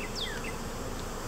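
Honey bees fly around an Apimaye hive while a package is installed, giving a steady close buzzing with a few sharp passing whines of individual bees, with no voices.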